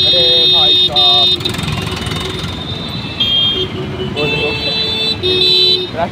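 Heavy road traffic in Rudrapur, with the steady rumble of engines and repeated bursts of car horns honking over it, while people talk nearby.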